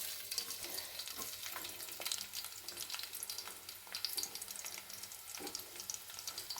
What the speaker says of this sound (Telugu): ఆయిల్ కొంచెం కాగిన తర్వాత నూనె వేడైంది. ఇందులో కొన్ని ఆనియన్స్,